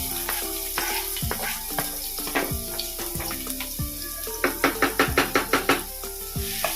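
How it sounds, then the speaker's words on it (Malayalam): Sliced onions hitting hot oil in a home kitchen pan while cooking varutharacha chicken curry, a steady close sizzle broken by a run of sharp clattering stirs or taps, with no talking. "ഇനി ഈ ഓയിലൊന്ന് ചൂടായതിന് ശേഷം നമുക്കിതിലേക്ക് ഉള്ളി ചേർത്ത് ഫ്രൈ ചെയ്യാം"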